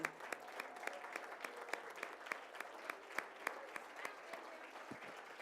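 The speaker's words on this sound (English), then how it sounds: "Let's give him a wonderful round of applause." Audience applause at a school Hispanic Heritage Month celebration, a steady round of clapping with sharp individual claps standing out, moderately distant and continuing throughout without speech.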